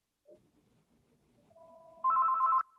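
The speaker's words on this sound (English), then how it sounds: "Never ring that phone, and now it's ringing." A telephone rings during a council budget meeting, with a steady electronic ring tone that starts softly and swells to a loud, sustained burst before cutting off, over faint room noise.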